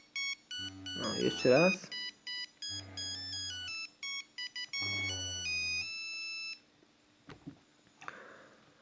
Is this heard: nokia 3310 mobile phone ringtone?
yes